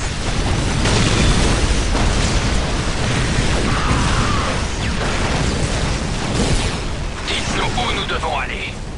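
Explosions and battle noise from the strategy game Warhammer 40K: Soulstorm form a dense, loud wash of booms and bursts throughout. A voice speaks over the combat in places.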